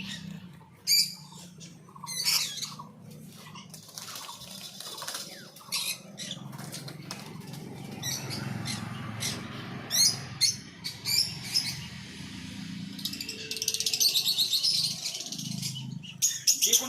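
Lovebirds and cockatiels in a Murshidabad bird shop chirp in scattered sharp, high bursts over a busy background of scratching and pattering in the cages.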